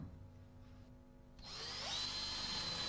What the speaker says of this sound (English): using the Snappy countersink bit to drill the hole and the screwdriver bit to complete each fixing in just a few seconds